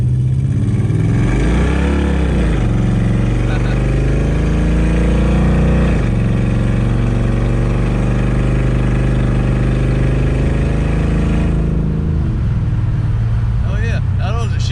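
A 1968 Charger with a swapped 5.7 Hemi engine driving, loud engine drone rising and falling through gear shifts with revs climbing and dropping, heard close throughout.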